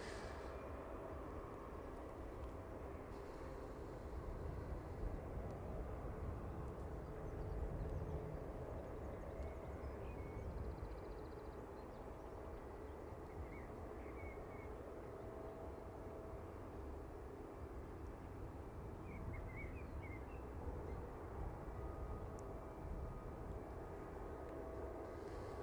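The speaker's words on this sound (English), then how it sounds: "the 737 just sneaking in on the runway there" A Boeing 737 rolling in on the runway at East Midlands Airport, a low, steady distant jet rumble that holds evenly throughout with no talk.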